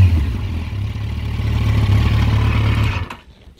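A Yamaha FZ1 motorcycle fitted with an aftermarket exhaust pipe idles close by with a steady, low, throbbing burble, then cuts off abruptly near the end.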